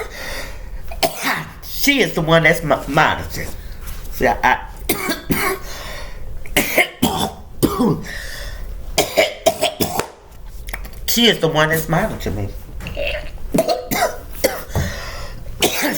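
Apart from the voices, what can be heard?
coughing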